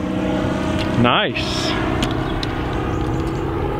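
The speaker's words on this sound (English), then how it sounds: "Planes landing here are just incredible, just flying straight over the top of us." A landing airplane flies low directly over a golf course, a loud engine roar with a sweeping pitch change as it passes overhead, while a person briefly speaks.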